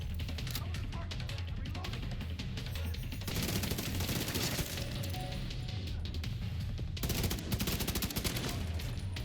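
Automated turret in The Division 2 fires sustained bursts of rapid gunfire, dense and continuous with brief pauses, mixed with other battle noise and some talking underneath.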